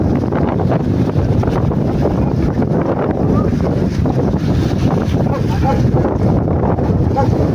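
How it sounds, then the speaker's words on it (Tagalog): Strong wind and choppy waves on Taal Lake, heard from a small fishing boat as a loud, constant roar of wind buffeting the microphone over rushing, churning water, with no break throughout. "Malakas ang alon"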